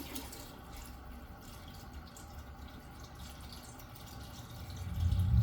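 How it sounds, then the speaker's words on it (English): Water pouring steadily into a reservoir bucket holding about three gallons, a continuous splashing fill at close range that grows louder toward the end. "once we've got our water reservoir filled up"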